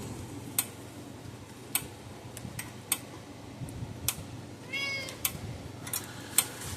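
A roughly seven-year-old shop cat in a workshop gives a short meow amid a quiet room, while a steady tick from an electric fence charger under test clicks regularly in the background.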